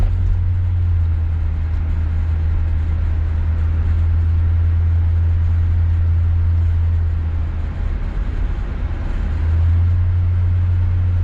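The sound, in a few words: 1966 Galaxie 500 convertible car driving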